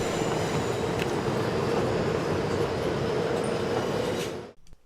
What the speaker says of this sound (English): Now the southbound train pulls out and we lumber into the San Luis Obispo station.